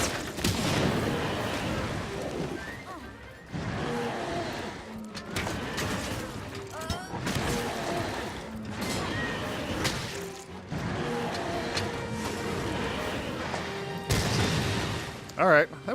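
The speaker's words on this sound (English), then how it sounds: "We got a decent explosion off there" Booming blasts and crashes erupt through a Monster Hunter World hunt in the Wildspire Waste, a few heavy bursts layered over steady game action and chatter.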